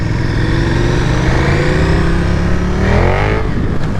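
A 2022 KTM Super Duke R or Aprilia RSV4 sport motorcycle in track mode accelerates hard, its engine note climbing steadily with a loud, continuous rising rev throughout and no talking.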